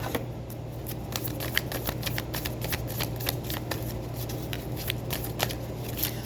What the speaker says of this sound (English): as I was shuffling and clearing the energy from the decks for you